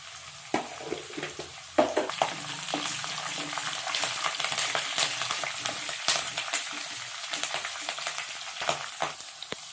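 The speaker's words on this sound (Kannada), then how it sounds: "ಈರುಳ್ಳಿ ಇಷ್ಟು ಫ್ರೈ ಆಗಿದೆಯಲ್ವಾ, ಸಾಕು" Onions frying with crushed garlic and curry leaves in a pan, a continuous bright sizzle with scattered crackles and spatters, plus a few clinks of stirring, loud and close without speech.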